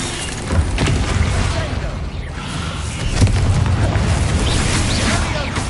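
Confringo fire spells bursting in Hogwarts Legacy, a string of booming blasts rolling over a dense, busy game soundscape, with a heavier burst near the middle and a shouted incantation cutting through.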